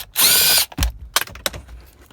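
Power tool spinning out bolts from a Lexus GX470 dash, one loud half-second whir up close, then clunks and rattles as parts are handled.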